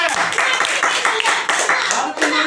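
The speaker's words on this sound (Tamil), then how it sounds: "சொல்ல கைத்தட்டுங்க." A church congregation clapping together during prayer, loud rapid hand claps in an uneven rhythm, with voices mixed in.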